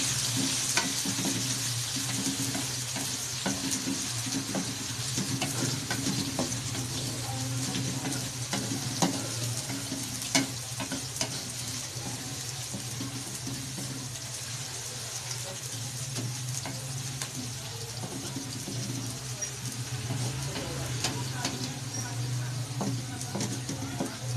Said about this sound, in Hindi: इसको 5 मिनट के साथ भूनेंगे।